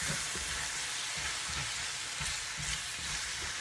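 Beef fries over low heat in a pan while being stirred, a quiet continuous sizzle broken by soft, irregular low thumps and scrapes from the stirring.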